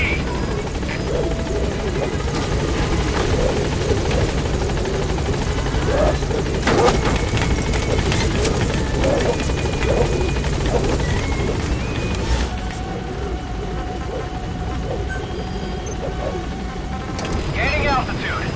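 Rotor thump of the B-Quad helicopter in Metal Gear Solid V: The Phantom Pain, a loud, steady drone throughout as it arrives at the landing zone, with radio chatter over it.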